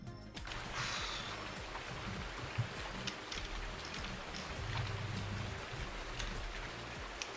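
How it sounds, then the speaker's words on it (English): Steady rain falls in Farming Simulator 19, a constant hiss of raindrops on surfaces with a low rumble underneath, fairly quiet and unbroken, with no talking. "It's very loud. Please, stop raining!"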